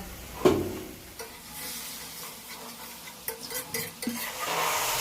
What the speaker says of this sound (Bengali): শেষ আমার কলমি শাক ভাজা